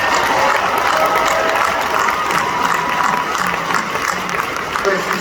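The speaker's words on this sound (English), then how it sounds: "So can we give him one more round of applause for happy birthday?" A convention crowd at PAX East 2022 claps and cheers for a birthday, a dense, loud wash of applause that holds steady throughout, with voices mixed into the noise.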